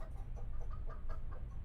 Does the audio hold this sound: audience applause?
no